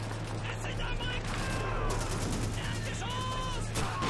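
Rifle gunfire from the World War II shooter Call of Duty 2 rings out over a steady low game rumble, with sharp shots and battle clatter spread across the few seconds while voices talk.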